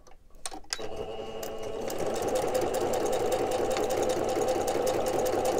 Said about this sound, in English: I like to sew it, so I'm going to do that very quickly.